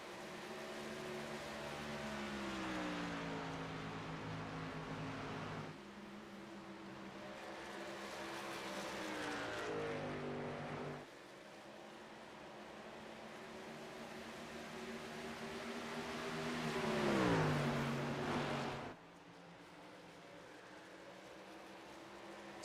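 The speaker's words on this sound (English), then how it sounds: "Things looking quite well for the 42 truck of David Wright" Race trucks compete in a truck series race at Dover, their engines droning loudly and continuously, with pitch rising and falling as the trucks sweep past in several waves.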